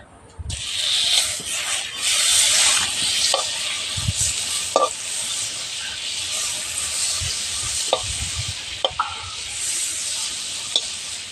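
Butter melts in a hot wok with a bright, continuous sizzle that swells loudly early on and then settles, broken by a few sharp knocks and clinks of a utensil against the pan, close by and without talk.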